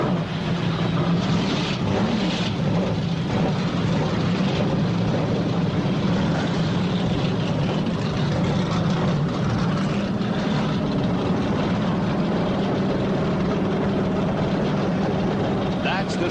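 Stock car engines fire up at Talladega Superspeedway before the 1991 Winston 500, a loud, continuous low engine roar filling the track with dense rumble and crowd noise, steady throughout.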